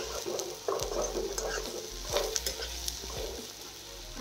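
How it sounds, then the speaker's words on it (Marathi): Onion and peeled garlic cloves frying together in a pan, a moderate, even sizzle with scattered pops and clicks of a utensil, close by and free of speech. "आता छान कांदा भाजायला आहे बघा"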